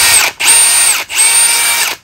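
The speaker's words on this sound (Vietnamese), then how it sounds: "Rồi ba chức năng có búa để phan tường, phan bê tông và phan gỗ, phan sắt và chức năng bắn vít." Milwaukee brushless hammer drill running in loud, high-pitched whirring bursts, three runs separated by short pauses, close up with no voices.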